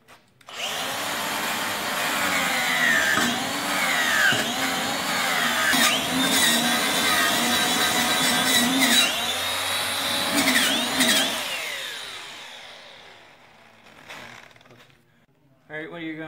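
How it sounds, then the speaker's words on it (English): An angle grinder fitted with a rust-removal attachment works against a rusty car rim. A loud, sustained whining roar rises and falls as the tool presses in, then winds down and fades near the end. "what I use is this attachment for grinder, and then just go at it"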